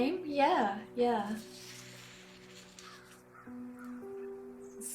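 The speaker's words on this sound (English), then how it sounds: "I can hear birds and animals in this at the moment." A crow caws twice in quick succession near the start, loud and harsh, then sparse faint birdsong continues over a quiet background of soft sustained tones.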